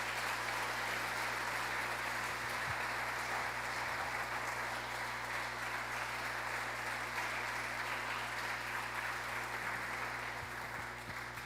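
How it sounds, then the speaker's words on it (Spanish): Church congregation clapping at a Sunday service, dense continuous applause filling the hall for a long stretch over a steady low electrical hum, with no talk. "Denle un aplauso al Señor porque somos uno."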